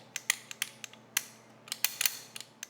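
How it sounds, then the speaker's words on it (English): An ambidextrous bolt catch on a rifle is worked by hand, giving a series of sharp metallic clicks and snaps, close and fairly quiet, scattered irregularly over a faint background hum. "when you pull the bolt back, you can push up with your finger and lock the bolt back, and then push down with it"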